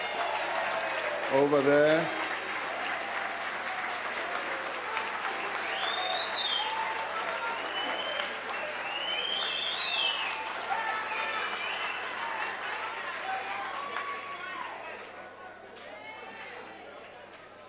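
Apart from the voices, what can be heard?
parliament members applauding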